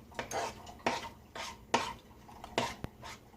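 A spoon scrapes and clinks around a pot of pineapple brown sugar glaze, giving about five distinct stirring strokes at a steady rhythm. The metal taps are close and fairly loud, and no voices are heard.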